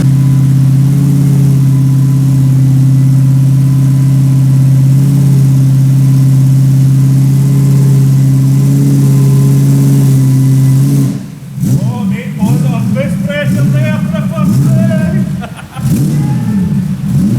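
A 1UZ V8 fitted with a turbo in a Nissan 200SX runs steadily on a dyno, a loud droning hum for about eleven seconds before the tone breaks into rising and falling revs.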